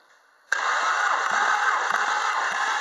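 A Volkswagen Polo Sedan 1.6 CFNA engine turning over on the starter during a compression test, a steady rhythmic cranking with periodic pulses that starts abruptly and continues without catching.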